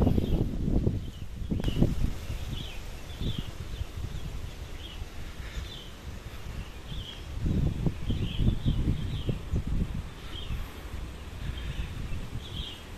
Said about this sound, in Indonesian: Anginnya cukup lumayan kencang.